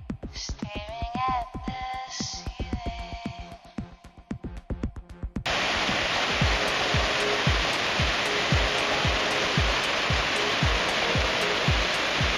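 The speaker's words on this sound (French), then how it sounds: "on remonte jusqu'à une belle cascade apparemment" A large waterfall along the fast-flowing Beni river in the Bolivian Amazon roars loud and steady after a quieter opening stretch of other sounds, the broadband rush filling the scene to the end.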